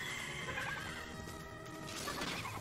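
A horse neighs in the video game Miitopia, a whinny rising over busy game music and effects, moderately loud, with a crash-like hit near the end.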